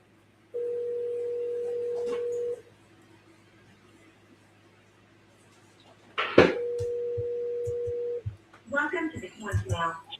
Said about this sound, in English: call Joe Dini